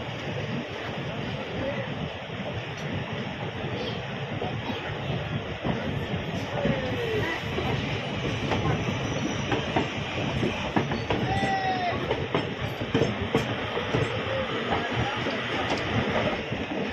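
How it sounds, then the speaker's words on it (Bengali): The Sealdah-Ballia Express rolls past with a steady, loud rumble and rhythmic clickety-clack of wheels on track over the full length, with faint voices underneath. "এটা বালিয়া এক্সপ্রেস, শিয়ালদা বালিয়া এক্সপ্রেস"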